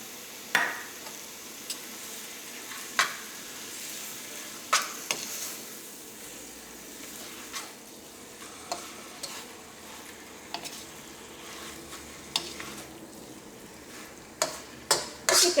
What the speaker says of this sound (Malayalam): ചിക്കനിലേക്ക് മസാലകളൊക്കെ നന്നായിട്ട് മിക്സ് ആയിട്ടുണ്ട്